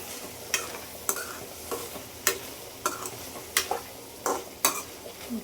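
Tomatoes frying in hot oil for South Indian tomato chutney, with a steady soft sizzle and a spoon scraping and clinking against the pan at a regular rhythm, close and alone.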